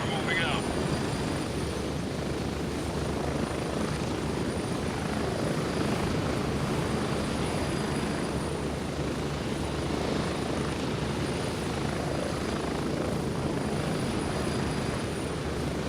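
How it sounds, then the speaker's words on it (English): Steady, loud helicopter rotor and turbine roar from a flight in the Gray Zone Warfare video game, constant throughout with no talk over it. "Sorry for the helicopter noise"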